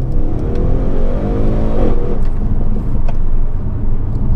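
An Audi RS6 Performance estate with a 605 PS engine accelerates hard, its engine note climbing steadily through a gear change and roaring continuously from inside the cabin.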